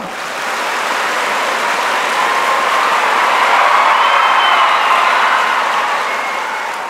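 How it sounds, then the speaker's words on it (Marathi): A large audience at a kirtan birthday celebration breaks into loud, sustained clapping, a thick wall of many hands that swells slightly in the middle and holds evenly for several seconds. "पोरीओ आपल्या टाळ्या दाखवा एकदा"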